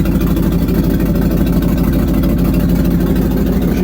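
A 1958 Chevy crane rollback truck's engine running with the hand throttle raised, a steady loud low rumbling drone with an even throb throughout, close up and without talk.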